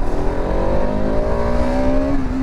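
A Bajaj Pulsar RS200 BS7 motorcycle being ridden, its engine note climbing steadily in pitch under acceleration before dipping near the end, loud and close with constant road and wind noise.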